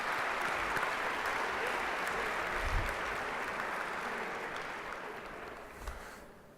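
A room of student athletes at a college all-sports gala applauds, steady clapping that is moderately loud at first and gradually thins out toward the end.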